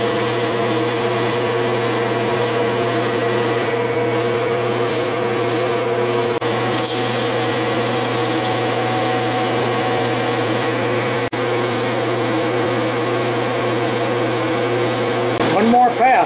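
A metal lathe bores out a bore to roughly 1.75 inches in a home workshop, giving a steady, loud motor hum and whine with a faint cutting hiss, unbroken for the whole stretch, then a brief louder swell at the end.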